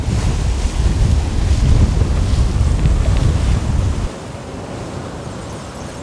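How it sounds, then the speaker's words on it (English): Sailboat surging fast down North Atlantic waves, with a loud continuous roar of rushing water and wind buffeting the microphone for about four seconds before the rush drops to a steadier, quieter hiss. "I think it's because of the waves pushing us very fast in a surfing manner."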